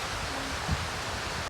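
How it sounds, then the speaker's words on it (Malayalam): Wind and rain by a pond in a forest make a steady, fairly faint broadband rush and hiss, like rustling leaves, with no voices, cutting off abruptly at the end. "നല്ല കാറ്റും നല്ല മഴയും."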